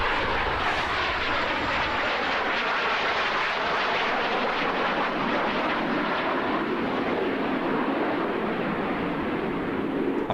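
Aeroplanes roar loudly and continuously, a dense jet engine rush holding steady with a slowly shifting whine, no voices over it.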